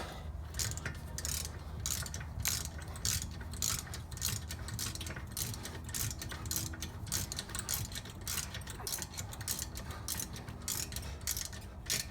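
A ratchet wrench cranks in the brake caliper bolts on a BMW E46 3-Series during a brake pad replacement, giving a quick, steady run of close mechanical clicks that repeats through the whole span.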